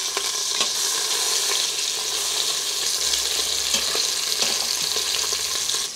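A Salisbury steak patty frying in a pan, a loud, steady sizzle and crackle with a few soft scrapes as it is flipped, no voices.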